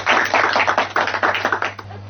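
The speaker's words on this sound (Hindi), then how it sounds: "एक बार जोरदार ताली हो जाए।" An audience on the junior quiz show Genius Kaun claps loudly and densely for about two seconds, then fades out. A steady low hum sits underneath.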